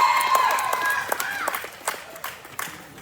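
At a livestock show grand drive, an exhibitor's cheering section cheers and claps in short bursts under a loud announcer's voice, with the crowd somewhat distant and echoing in an arena.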